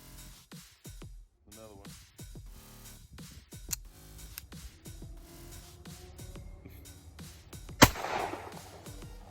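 A 1918 Colt 1911 pistol fired outdoors, several sharp shots scattered across the stretch with one loud crack near the end and quieter clicks and handling noises between them.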